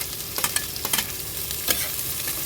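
Chopped onion, green chilies, mustard seeds and cumin fry in hot oil over a wood-fired stove, a constant close sizzle broken by several sharp stirring scrapes.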